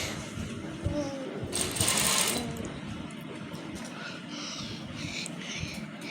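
A sewing machine stitches a folded scallop on trouser fabric, its motor running in a steady mechanical whir with a brief louder burst midway, fairly quiet in a room.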